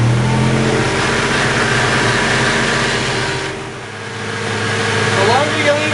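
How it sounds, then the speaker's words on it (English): A polisher buffing a burnt-oil wood finish runs at speed with a steady motor whine that dips briefly, then rises again, with someone talking over it. "throw that polisher into gear"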